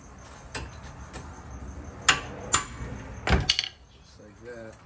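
A tool strikes a stuck brake rotor with several sharp metallic knocks spaced irregularly, the loudest near the end, close by and alone.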